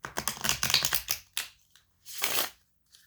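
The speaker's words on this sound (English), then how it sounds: "get you one more shuffle" Tarot cards being shuffled up close, a quick run of riffling flutters followed by a short pause and then one more longer riffle, with no talk.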